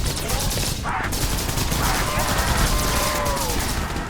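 Continuous rapid gunfire and explosions from a zombie video game, including an Apache helicopter firing, dense and loud throughout with a few faint tones under the barrage.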